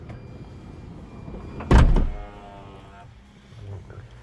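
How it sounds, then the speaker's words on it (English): Electric sliding rear door of a VW Caravelle Executive Highline closing, a loud sudden thud and rumble midway as it shuts, followed by a fading mechanical whir over a quiet background. "if you push these, then that will then operate the rear door and open it, and then you just simply push it again"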